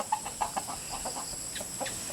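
Several chickens, including a white rooster, clucking softly nearby in short, scattered bursts, with quiet background hiss and no talking.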